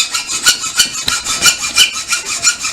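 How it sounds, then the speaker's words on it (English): A hacksaw cuts through a metal exhaust pipe on a C10 truck turbo manifold build, giving a steady back-and-forth rasp of about four strokes per second, close and clear, with no talking. "A hacksaw, really?"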